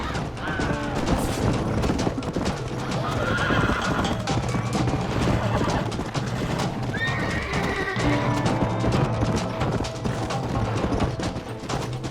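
Horses in Red Dead Redemption whinny and neigh over busy clip-clopping hooves, with a dense, loud game soundscape throughout and no clear speech.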